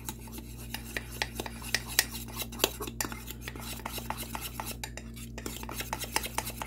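A fork stirs a cinnamon mug cake topping in a bowl, making a quick, steady run of soft metallic scrapes and taps, close and quiet over a low background hum.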